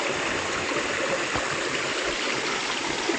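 A weak river current flows near a cave, giving a steady, close rushing and trickling wash of water without pause and with no voices over it.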